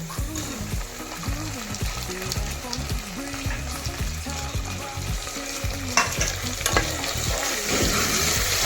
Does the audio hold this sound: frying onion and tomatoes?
yes